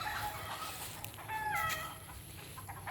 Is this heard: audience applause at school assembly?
no